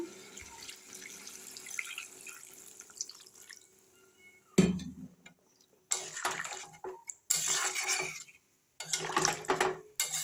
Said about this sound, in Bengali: এবার আমি জল ঢেলে দেবো, পরিমাণ মতো আমি জলটা দিয়ে দেবো।